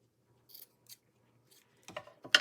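Scissors snipping paper for a journal project, a few quiet separate crisp snips followed by two louder, closer cuts at the end, with no talking.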